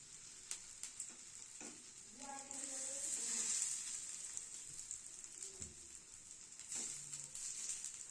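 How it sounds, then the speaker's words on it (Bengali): Food fries crisply in a pan in a home kitchen, a soft continuous sizzle and crackle with occasional stirring knocks; a voice murmurs faintly in the background at moments. "এই যে সুন্দর করে কড়া কড়া করে ভাজছে আমার মা"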